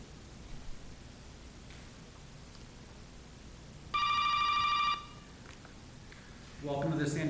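At a city council meeting, an incoming phone call rings twice, a bright electronic trill about a second long, then a second burst starting near the end, heard over a low hiss of room noise.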